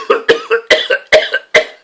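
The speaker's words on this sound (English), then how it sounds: "And start coughing." A man coughs repeatedly, with half a dozen short, harsh bursts close to the mic in quick succession, each falling into a brief throaty tail.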